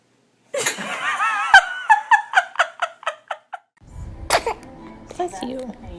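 A baby sneezes once, followed by a run of rhythmic, giggly vocal bursts and a little more voice near the end, close and clear against an otherwise quiet room.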